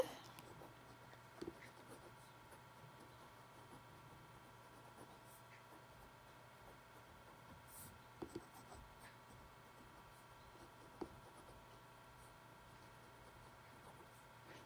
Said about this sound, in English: I'm writing in my Traveler's Notebook insert, the lined insert, Midori paper